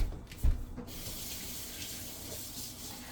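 A tap runs into a sink during washing up, a close, steady rush of water after a brief clatter at the start.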